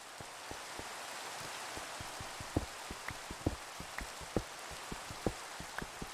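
Minecraft rain falls in a constant hiss, with frequent close droplet patters and taps sounding irregularly throughout.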